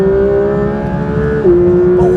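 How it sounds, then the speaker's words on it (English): A Porsche 911 GT3 (992.2) flat-six engine sings on a racetrack with a loud, sustained high-revving tone that dips sharply midway, as on a gear change, then holds steady again, close and alone. "The noise that comes from this flat six engine is incredible"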